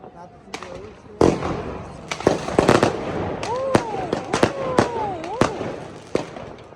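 Outdoor fireworks shot skyward at a year-end celebration in a public square, with sharp cracks and pops scattered throughout and rising whistling streaks, fairly close and loud, while people talk and call out nearby.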